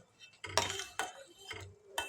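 Custard powder being mixed into hot boiled milk in a pot, with a spoon clinking against the metal in a few separate bursts of scraping and tapping across a couple of seconds, close and fairly quiet.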